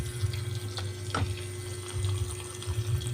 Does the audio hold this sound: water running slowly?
yes